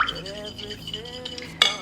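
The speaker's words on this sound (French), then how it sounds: "Je vais mélanger le beurre qui vient de sortir du micro-ondes." A utensil stirs butter just melted in a microwave, with soft scraping and a few light clinks against the bowl, ending in one sharper clink.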